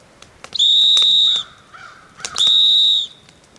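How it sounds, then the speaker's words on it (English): A shrill whistle blows two sharp blasts at a rustic log cabin deer hunting camp in Maine, each lasting about a second, separated by a short pause. "What you do is you blow your whistle"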